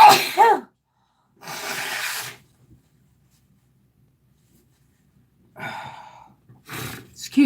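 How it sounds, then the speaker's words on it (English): A single abrupt sneeze bursts out near the start, followed by breathy, sighing exhalations; after a long quiet gap someone speaks briefly near the end. "I'm going to sneeze"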